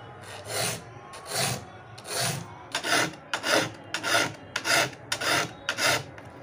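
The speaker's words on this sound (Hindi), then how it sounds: "हम इस पर ऐसे ही रफली धार लगा रहे हैं" A metal file rasps across the teeth of a handsaw during rough sharpening, giving about ten loud rhythmic strokes at a steady back-and-forth pace, close up and heard alone.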